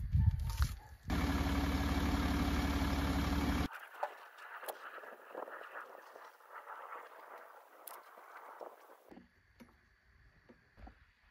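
A Range Rover engine runs with a loud steady drone for a few seconds, then cuts away to quieter, irregular mechanical noise and knocks, ending in near silence.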